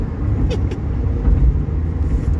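Inside a truck cruising along a Louisiana highway, a loud, steady low road rumble with engine drone and faint passing traffic swells, with no talking.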